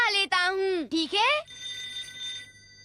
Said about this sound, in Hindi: ओह, मिस्टर टनाका, जी बताइए आपने फोन कैसे किया?